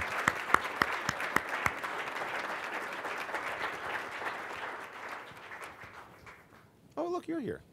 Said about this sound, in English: another round of applause for the mayor.